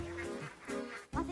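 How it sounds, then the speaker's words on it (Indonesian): Ducks brought into a Hell's Kitchen Indonesia kitchen quack a few times, nasal calls coming in short bursts, fairly close and moderately loud, with no talk over them. "Ternyata itu nggak mimpi, men. Beneran ada bebek, men."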